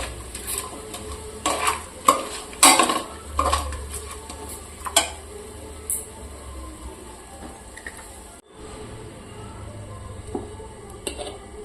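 Cauliflower fried rice being stirred and mixed in a frying pan, with a steady sizzle under repeated scraping and clinking strokes of a spatula against the pan, louder early on and then settling into a quieter fry.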